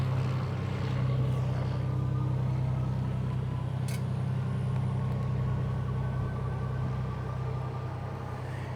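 A steady, droning aircraft engine runs at an airport, heard from nearby as a continuous loud hum with a few faint clicks and no voices.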